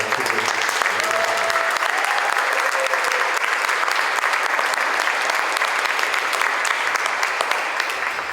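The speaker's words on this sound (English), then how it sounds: "can we give a huge round of applause for Kumu?" Sustained, dense audience applause for Kumu at a Hawaiian hula hālau proclamation event, steady and loud for the whole stretch with a few faint voices mixed in.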